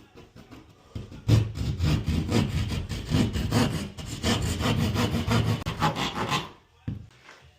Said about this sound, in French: On va se munir d'un petit outil très pratique, la scie à guichet Dexter.